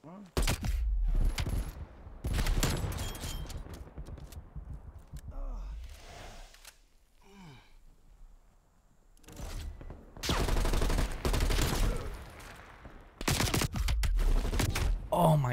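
Bursts of gunfire in a free-for-all match of a shooter video game, including an MP5, come as loud rapid volleys with quieter gaps between them, and a voice talks in places.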